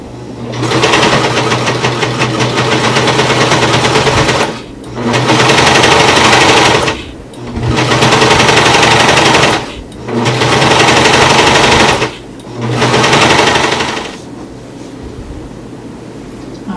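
A coverstitch sewing machine hemming knit fabric runs in loud, rapid bursts, five stretches of fast mechanical chatter separated by short pauses, then goes quiet.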